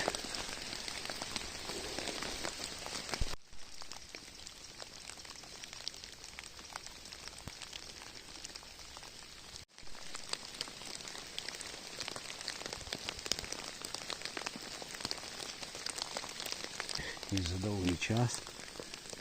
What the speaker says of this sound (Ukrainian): Дощ, сипить.